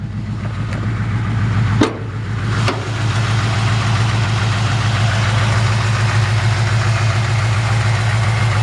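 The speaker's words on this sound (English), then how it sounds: "Great sounding engine." A 1965 Chevrolet C-10 pickup truck idles steadily through old cherry bomb mufflers, giving a close, loud, low rumble that stays constant, with a couple of brief clicks near the start.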